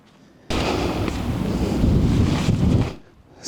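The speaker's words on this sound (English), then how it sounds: "The wind's dropped a little bit anyway." Wind outdoors on a misty day, a sudden loud rushing gust battering the microphone for about two and a half seconds before dropping away.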